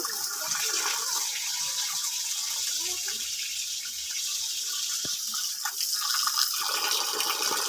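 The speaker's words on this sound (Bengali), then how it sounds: "এবার আমি মাছগুলো পরিষ্কার করে ধুয়ে নেব" Fish washed in water: a continuous rushing, splashing flow runs close and steady throughout, with occasional small knocks and no talking.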